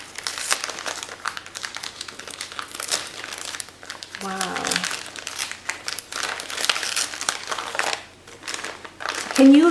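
Crinkly floral wrapping paper is unwrapped from a vintage mystery-box item, rustling and crumpling up close in repeated bursts, with a voice speaking briefly over it.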